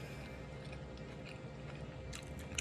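Someone chews a mouthful of one-pot spaghetti with capers, kale, mushrooms, garlic and crushed red pepper, giving soft, close, quiet chewing with a few light crunchy bites.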